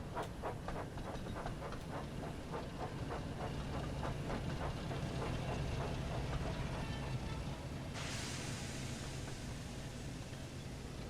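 A train backs up in a Thomas & Friends shunting game, a steady chuffing and rolling clatter with hiss, rhythmic puffs early and a brighter steam rush near the end, moderately quiet with no voices.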